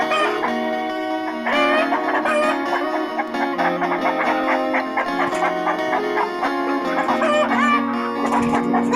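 A flock of growing chickens of uneven size in a coop cluck continuously and fairly close, with overlapping calls from several birds over a busy background.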